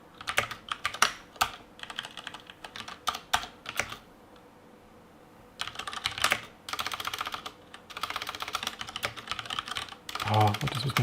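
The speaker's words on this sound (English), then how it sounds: "What is with my typing today?" Close-up clatter of typing on a computer keyboard in irregular bursts of rapid keystrokes, separated by short pauses and a longer gap in the middle, with no talk heard.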